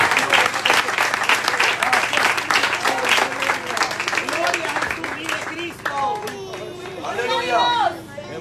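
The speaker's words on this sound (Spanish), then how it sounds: "Dele palmas al Señor por eso." A church congregation claps hands loudly and rapidly under crowd chatter and raised voices, with speech and singing-like voices emerging over the fading clapping in the last seconds.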